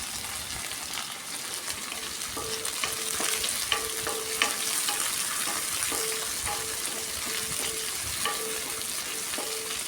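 Dried fish frying in oil, a continuous close sizzle broken by a series of spatula clinks and scrapes against the pan at irregular intervals.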